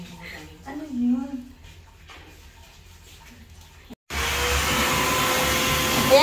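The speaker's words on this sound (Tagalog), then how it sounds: "pagtapos kong magpaligo, si pare naman ang nagbo-blower" A blow dryer runs loud and steady, drying pets after their bath at home, switching on abruptly partway through after a stretch of quieter background sounds and brief speech.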